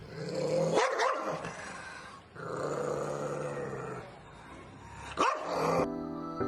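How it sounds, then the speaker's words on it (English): A dog barks and growls in a few short bursts, close and clear, with gruff grunting tones between barks and no talking. "D for dog."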